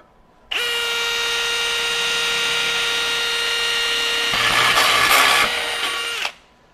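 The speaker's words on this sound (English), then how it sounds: "We'll do one more, again on speed 2 on this drill." A power drill fitted with a Hercules cobalt step drill bit runs at full speed on speed 2, boring a hole in one continuous, loud whine that rises in harshness near the end before cutting off.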